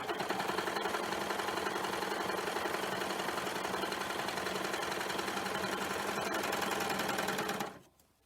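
A serger stitches through layers of fabric in a steady, fast mechanical whir that runs evenly for several seconds, then stops abruptly near the end.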